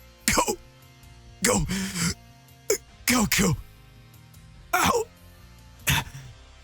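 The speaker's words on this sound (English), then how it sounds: "Then it is possible to hear someone coughing." A person coughs and clears their throat in several separate short bursts, spaced by quiet pauses, close and fairly loud, with brief speech in between.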